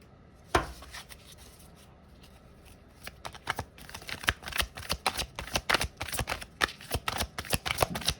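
Tarot cards are riffled and shuffled close up, a brief snap at first, then after a pause a dense run of rapid papery flicks and slaps, with no voices.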